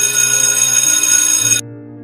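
A phone rings while a call is being placed, a loud steady electronic ringtone close by that cuts off abruptly near the end, leaving a quieter hum.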